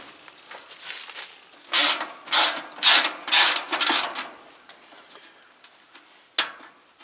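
A ratchet backs out screws from the panel of an HVAC fan motor housing, giving several loud bursts of rapid clicking with short pauses, then a few faint isolated clicks and one last sharp click near the end.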